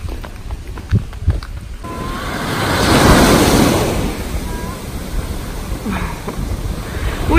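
A big ocean wave breaking on a Martinique beach, rising into a broad rushing roar that swells and then fades out, with wind buffeting the microphone and a few faint voices and knocks before the wave arrives.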